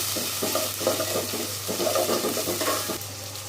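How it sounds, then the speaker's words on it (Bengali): Prawns fry in oil in a pan for a bottle-gourd curry, a close, steady sizzle broken by rhythmic scraping bursts as they are stirred about, with no one speaking. "এখন দিয়ে দিব চিংড়ি মাছটা একটু ভাজা ভাজা করব।"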